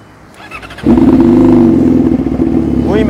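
A 2016 Yamaha R6 motorcycle with an SC Project exhaust fires up: a brief cranking clatter gives way to a loud, steady, close idle that holds to the end with no talking.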